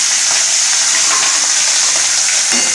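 Large pieces of katla fish fry in very hot oil in a kadai, giving a loud, dense, continuous sizzle with sharp spattering pops throughout.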